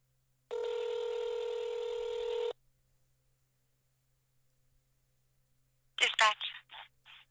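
A telephone keypad dialing tone sounds as one steady electronic beep lasting about two seconds. Near silence follows, then a short burst of voice near the end.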